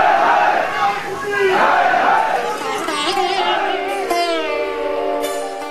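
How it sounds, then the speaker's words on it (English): A large crowd at a World Sikh Organization gathering roars and chants loudly and steadily, with voices rising in rhythmic shouts throughout. "The WSO crowd cheered him on."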